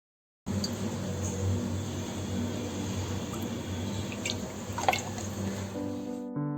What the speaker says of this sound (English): add generous amount of refined oil